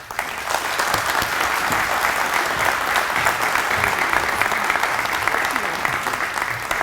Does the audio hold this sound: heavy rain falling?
no